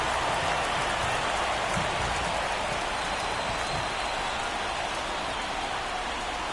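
Steady rain pours over the baseball field in MLB The Show 24 during a Phillies at Dodgers game, a dense, even hiss of falling drops that holds loud and constant throughout with no voices.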